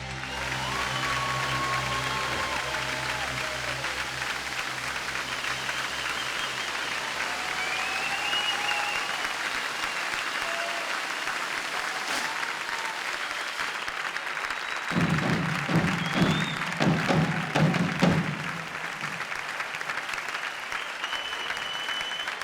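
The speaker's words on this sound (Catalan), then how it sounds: "molt aplaudit aquest darrer vers" Crowd applause after the final verse at a Catalan devils' troupe (Ball de Diables) festival performance in Vilafranca, sustained clapping over fading music, growing louder with bursts of percussion midway before settling.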